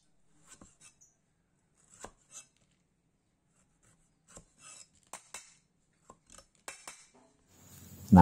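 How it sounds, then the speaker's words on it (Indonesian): A kitchen knife chops long beans into small pieces for Balinese lawar, giving sparse, irregular close taps on a board with pauses between strokes, then a louder scraping rustle at the very end. "kacang panjang kita potong kecil-kecil atau iris kecil-kecil"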